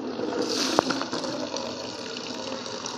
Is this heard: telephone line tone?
no